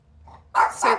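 A pet dog gives two loud, close barks in quick succession indoors, preceded by a faint whine, with no talk over it.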